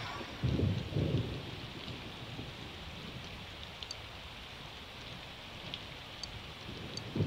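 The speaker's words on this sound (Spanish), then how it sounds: "está lloviendo" Steady rain falls in the video game Persona 4 Golden, a continuous hiss of rain on surfaces with a low rumble early on and occasional faint chimes, no talking.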